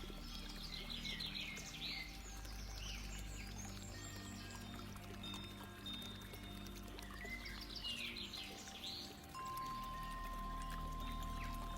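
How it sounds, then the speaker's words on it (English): Water flows steadily and evenly, filling the whole stretch, while birds chirp and tweet intermittently in the background. "Only paying attention to the sound of the water."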